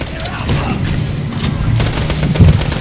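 Dense bursts of gunfire and booming explosions in the video game Borderlands: The Pre-Sequel crackle continuously, with a heavier hit near the end, loud and busy throughout.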